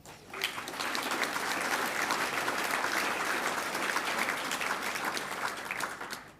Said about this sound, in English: So perhaps you'd like to have a wee clap for Tom.